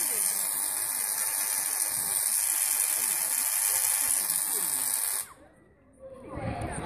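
High-voltage buzz of a small Tesla coil discharging from a metal tip into the air, loud and steady for about five seconds before cutting off abruptly, followed by a short low rumble.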